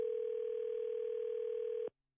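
A steady telephone dial tone after hanging up, a single continuous buzzing hum lasting about two seconds before cutting off abruptly.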